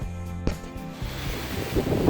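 Gusty wind buffets the microphone outdoors in cold Arizona desert, a steady rushing roar with a sharp thump partway through.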